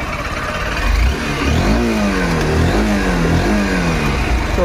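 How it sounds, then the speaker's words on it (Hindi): A 2024 Honda Unicorn 160 BS7 motorcycle engine runs close up and revs several times, its pitch rising and falling over a steady mechanical rumble. "अपनी होंडा यूनिकॉर्न बाइक जो स्टार्ट हो चुकी है"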